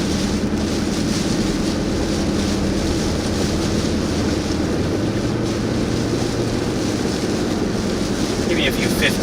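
Strong storm wind buffets the microphone in continuous heavy gusts, a loud unbroken roar that lasts from start to finish.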